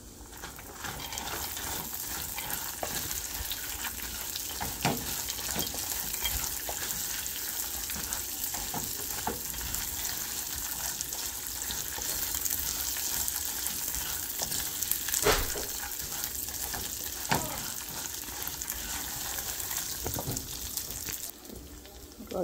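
A lemon rice tempering fries in a pan, a soft continuous sizzle with scattered clicks and scrapes of stirring throughout, fairly quiet and close, without speech over it.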